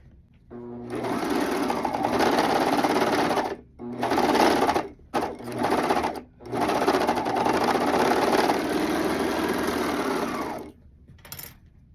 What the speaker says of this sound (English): And now I'm gonna go serge it